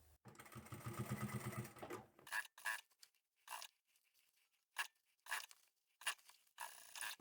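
Sewing machine top stitching a lined storage bag, a sustained burst of fast close whirring followed by a series of short stop-start stitching runs separated by quiet gaps.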